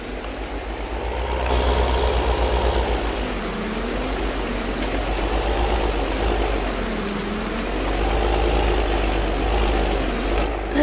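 A truck backs up a hillside road on a farm, its engine holding a loud, close, steady rumble that slowly wavers up and down in pitch as it moves, with no talk over it.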